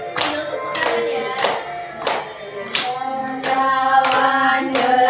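Hands clap in a regular beat, about once every two-thirds of a second, along with a sung children's tune in a microteaching classroom lesson, loud and close, the melody sustained between claps.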